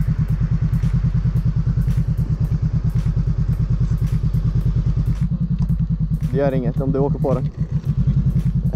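A motorcycle engine chugs in a steady, rapid thumping idle and then lugs unevenly as the clutch is let out too fast, close up, with a person speaking over it.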